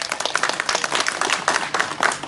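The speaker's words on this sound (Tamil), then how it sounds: "கைதட்டுங்க." An audience at a Tamil stage comedy performance claps its hands in a dense, steady burst of applause that carries on loudly throughout.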